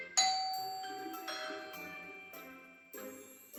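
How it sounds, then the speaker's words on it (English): A doorbell chimes several times in a quiet room: bright, ringing tones that each fade slowly before the next strike, with no talking. "said Ma, as the doorbell rang"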